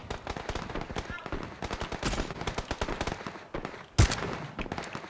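Rapid bursts of automatic gunfire in the battle royale game PUBG crackle almost continuously, with one louder shot standing out near the end and voices talking over the shooting.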